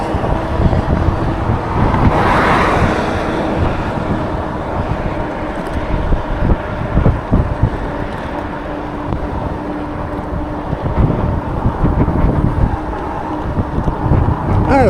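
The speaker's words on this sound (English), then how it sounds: "I guess that wind's cutting down through" Wind buffeting the microphone while riding a Ridstar Q20 e-bike between hills, a loud continuous rumbling roar with gusty swells, passing road noise underneath and no clear talking.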